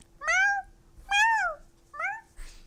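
Cat meowing sound effect: three clear, close, rising-and-falling meows in quick succession, followed by a short, softer breathy cry, with no one talking over them.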